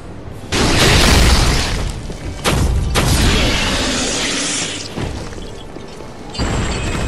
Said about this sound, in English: Every time you hear this thump sound, I do a critical hit